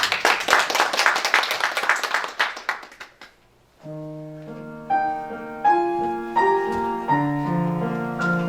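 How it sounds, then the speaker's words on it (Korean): Applause from a church congregation during a worship service, a dense patter of clapping that fades out after about three seconds, followed by sustained organ or keyboard chords. "큰 박수로."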